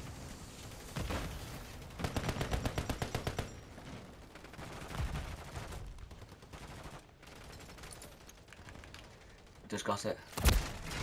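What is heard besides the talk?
gunfire in the video game Rust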